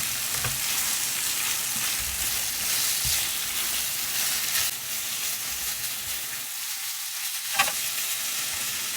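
Two little cherry tomatoes fry in a pan with a continuous bright sizzle and crackle. Occasional stirring scrapes and a brief dip in the sizzle come near the end.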